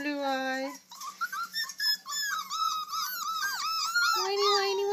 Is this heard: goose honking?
no